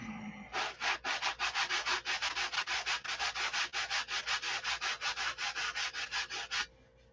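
Hand sanding of a piece of wood produces a steady run of about twenty-five rhythmic back-and-forth rasping strokes, close and fairly loud, with no voices.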